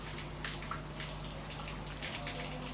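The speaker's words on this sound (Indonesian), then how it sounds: "Kita cuci dulu kemirinya, tentunya dengan air bersih kan." Candlenuts are dipped and rinsed in clean water, producing a soft, faint continuous splashing and trickling with small drips and no talk.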